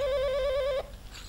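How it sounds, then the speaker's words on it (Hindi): A telephone rings in a domestic drama scene, one steady warbling electronic ring lasting under a second before cutting off, followed by faint room noise. "तुम्हारा फोन है"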